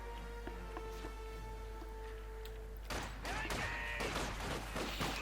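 Scattered gunfire and rifle-grenade blasts from a Company of Heroes 2 battle, with a dense burst of crackling shots and thuds in the second half over a constant low hum and tonal game sounds.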